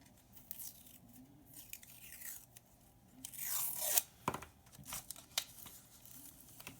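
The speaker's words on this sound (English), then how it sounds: "So I'm just gonna add a little bit of washi tape to this page too." Washi tape torn and pressed onto a bullet journal page: a few quiet crinkling rips and soft taps close by, with a sharper tearing burst in the middle.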